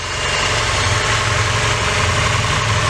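A car engine with a catch can fitted idling steadily with a low, even rumble and slight vibration, close and constant throughout.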